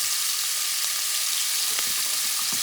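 Onions fry in olive oil over slightly above medium heat for a bison stew, a close, continuous bright sizzle with a few soft pops and stirring scrapes, and no talking.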